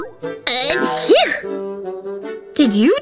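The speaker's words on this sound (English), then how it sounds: "Did you just sneeze?" A child's high-pitched voice lets out loud, drawn-out sneezes, with a brief moaning vocal sound between them.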